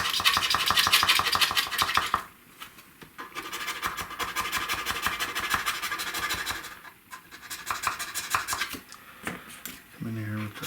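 Metal file rasping against the sides of the truss rod wheel slot on a Sterling Musicman Stingray 5 bass, close, rhythmic back-and-forth scraping strokes in bursts separated by short pauses.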